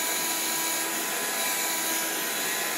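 A Shark vacuum cleaner runs steadily nearby with a continuous broadband motor whine and airflow hiss, loud and unbroken throughout, with no talking.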